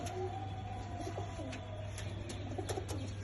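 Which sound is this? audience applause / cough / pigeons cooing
pigeons cooing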